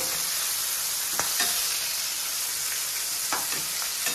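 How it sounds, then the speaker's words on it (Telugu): Flour-coated chicken pieces frying in hot oil for KFC-style fried chicken, a soft steady sizzle throughout with a few brief clinks and stirring taps. "కొంచెం ఫ్రై అయిన తర్వాత మనం తిప్పి ఫ్రై చేయాలండి."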